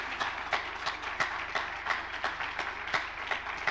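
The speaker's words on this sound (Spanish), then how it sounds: "un aplauso grande para Edmundo Ramos." Clapping follows a presentation at a world ecology summit, with sharp distinct claps landing in a rough rhythm over a low steady hum.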